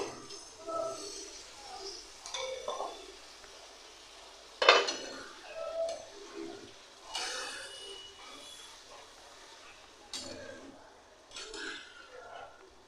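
Bata fish curry masala fries in a pan as spice water goes in, giving soft sizzling with scattered clinks and scrapes of a utensil against the pan, one sharper clatter midway, and a quiet hiss between.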